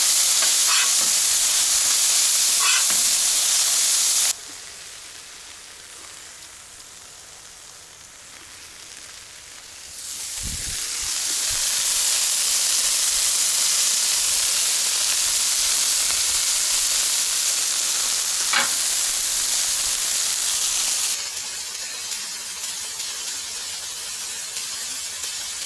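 Onions and meat sizzle loudly on an outdoor Blackstone griddle, a dense, close hiss that eases briefly, then swells again to a steady roar of frying with no talking over it.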